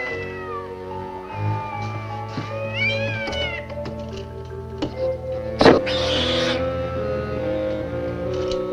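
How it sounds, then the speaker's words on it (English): A cat meows in a film scene, drawn-out wavering cries repeating several times over a low steady background with a few knocks, fairly close and with no talking. "It's a cat, a very stupid cat."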